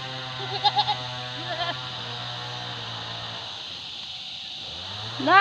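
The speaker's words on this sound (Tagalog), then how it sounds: "Another goat, white color." A white goat bleats in a few short, wavering calls early on, fairly close, over a steady hum of farm ambience, with a louder noise right at the end.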